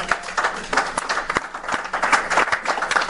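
A church congregation applauds for the Lord during a sermon, with dense, loud clapping spread across the room, sharp individual claps standing out from the steady wash.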